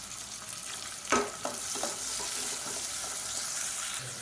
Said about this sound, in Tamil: இப்போ பொடியாக நறுக்கின வெங்காயம் சேர்த்துக்கலாம்.